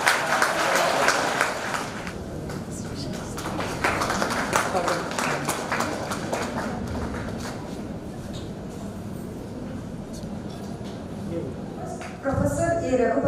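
An audience at a library awareness program on e-resources claps in a hall, dense applause that slowly thins and fades, with talking over it and a brief clatter near the end.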